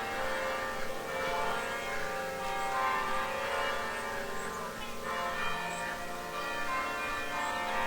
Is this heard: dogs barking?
no